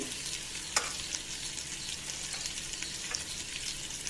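Onions fry with curry leaves in hot oil in a pan, a constant fine sizzle with a few sharp spatters and pops, close and steady without talk.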